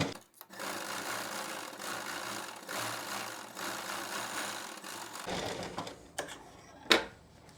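Sewing machine stitching a pant belt, running in a steady continuous whir for several seconds before stopping, followed by a few brief clicks and knocks near the end.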